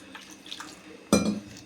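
Quiet clinks and faint handling noises give way to a sudden splash and swish of water in a bowl as grated potato is washed, close and brief.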